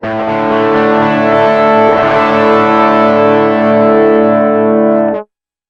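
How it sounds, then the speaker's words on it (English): A single guitar chord through a traditional overdrive Hex Fuzz guitar-synth patch on a Roland VG-99 rings out loud and buzzing, sustaining evenly for about five seconds before cutting off abruptly; no voices. "So the first one we have is this sort of traditional overdrive sound."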